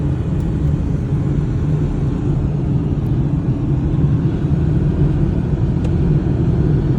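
A compact Kia car is driven along a road, heard from inside the cabin as a steady, loud low engine and road rumble that never lets up, with no voices.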